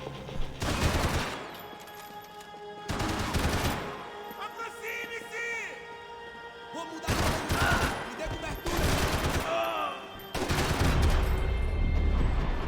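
Gunfire rings out in the video game Max Payne 3: several loud bursts of rapid shots separated by short pauses, with a voice talking between and over the volleys.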